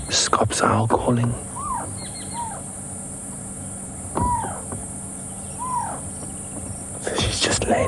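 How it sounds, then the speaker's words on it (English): A little scops owl gives short, soft, repeated calls at intervals during a sunset safari drive. The calls rise faintly over a quiet bush background, and people talk in the vehicle nearby. "And yeah, a little scops owl calling."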